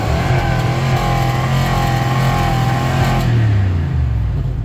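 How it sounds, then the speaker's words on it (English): A cold truck engine, heavily rusted body, is held against its rev limiter, producing a loud, sustained high-revving drone that stutters and bounces at the cutoff before dropping away near the end. "Do a nice little rev limiter while she's cold here."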